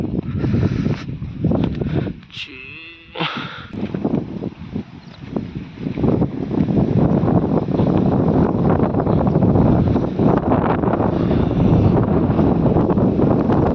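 Strong wind buffets the microphone in loud, rumbling gusts, with a brief lull early on before the roaring turbulence returns and holds.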